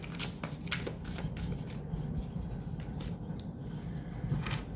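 Tarot cards shuffled by hand during a love reading, a steady soft riffling and rustling that runs throughout at moderate, close level with no voices.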